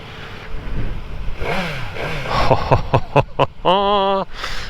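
A Suzuki GSX-1000GT motorcycle on a test ride at a festival revs up through its gears, the engine note rising and falling, then closing with a sustained high rev, loud and close.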